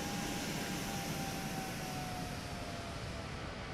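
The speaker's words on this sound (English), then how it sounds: "Obviously the engines are idle at the minute," Airbus A220 jet engines idle on approach in a flight simulator, a steady broadband roar with a faint thin whine running underneath, continuous and even throughout.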